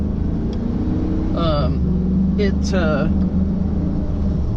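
Low, steady engine drone inside a Ford pickup with the Godzilla engine towing 17,000 pounds over abrupt hills, a constant rumble running throughout while someone speaks briefly over it.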